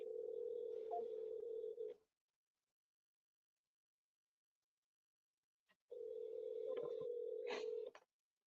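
A telephone line tone: two steady, faint beeps of about two seconds each, separated by several seconds of silence.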